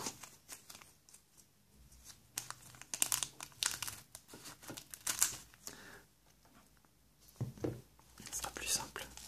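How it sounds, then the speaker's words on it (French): Close crinkling and snipping of scissors cutting into the plastic packaging of a Pokémon card tripack, a run of crisp crackles and cuts broken by short pauses, with soft whispered talk in between. "je vais l'ouvrir au ciseau."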